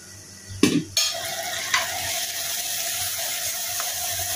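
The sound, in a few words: spice paste being fried and stirred in a pan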